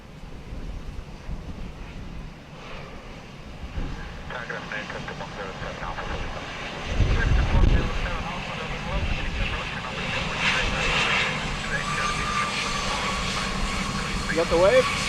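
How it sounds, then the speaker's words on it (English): An Aer Lingus Airbus A321neo arriving from Paris lands at Dublin Airport in stormy weather, its engine roar rising and swelling over heavy wind buffeting the microphone, with loud gusts peaking midway and continuing steady. "What you're hearing, cleared to land there, is a 321 Neo Aer Lingus from Paris"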